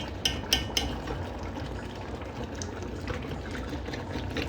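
A pot of chicken and beans soup bubbles steadily as it boils down, a continuous close simmering hiss with a few sharper clinks near the start.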